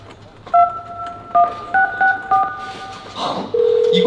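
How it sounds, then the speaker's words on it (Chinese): A telephone keypad dials a number: about six distinct dual-tone beeps in an uneven rhythm, followed by a steady ringing tone, with faint crowd noise from a concert stage in the background. "我要跟他打个电话"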